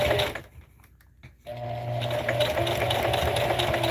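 Sewing machine stitching across the bottom of a tote bag made from dollar-store placemats, a steady close mechanical hum and rattle that pauses briefly, then resumes and runs continuously.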